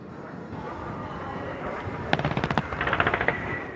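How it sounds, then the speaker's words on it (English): A Dragonfly attack aircraft makes a simulated diving attack at an air show, with a rapid burst of loud, gunfire-like pyrotechnic pops over steady crowd and engine noise, a second quicker volley following close behind. "He'll do a simulated 45-degree diving attack to the ground targets."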